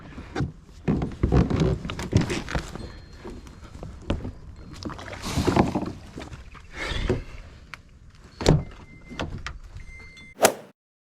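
Repeated splashing and knocking of a pedal kayak moving through water, with creaks and thumps up close and no talking.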